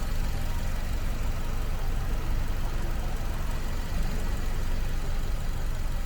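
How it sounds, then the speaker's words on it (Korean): A Renault Samsung QM6 2.0 LPe SUV engine idles steadily nearby, a constant low rumble with an even mechanical chatter and no other sounds. "엔진 소리도 좋고 깨끗하네요."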